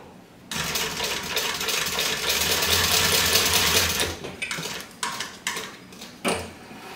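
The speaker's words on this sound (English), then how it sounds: "I'm going to baste these on and then we'll sew the front to the back." A sewing machine runs in a steady fast whir while basting backpack fabric pieces together, close and loud, then stops and restarts in short bursts with light clinks of handling.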